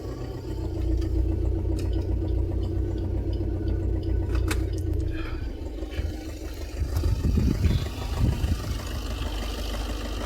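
A 2017 Maruti Baleno diesel engine idles steadily nearby with a low, even rumble, joined later by a few light mechanical clicks and a brief rougher surge, with no voices.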